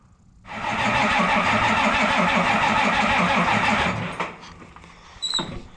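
A cold 1855 tractor engine cranks and catches, a loud rough rhythmic chugging near at hand for several seconds before it cuts back, followed by faint clanks and a short squeal.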